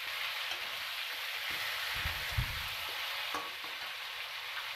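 Onions fry and sizzle in a pan for chicken curry, a continuous hissing crackle with a few low scraping stirs of the spoon, close and without talk.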